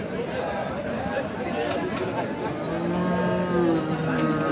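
A Sahiwal cow with a calf moos with a low, drawn-out call near the end, while people talk and chatter close by throughout.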